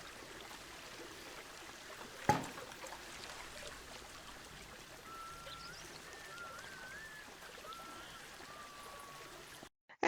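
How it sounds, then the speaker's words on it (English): A small water feature trickles in a tortoise habitat at a Planet Zoo game zoo, a soft steady stream with faint chirping birds in the background and one brief louder knock early on. "And that gets us a nice little water feature going for our tortoises."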